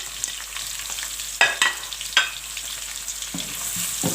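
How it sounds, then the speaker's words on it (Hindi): Two medium onions fry in hot oil toward golden with a soft steady sizzle, broken by a few sharper scrapes and clatters of stirring; no one speaks. "ये 2 मीडियम साइज़ की अनियंस हैं, ये शामिल करेंगे। इसको गोल्डन होने तक फ्राई करेंगे हम"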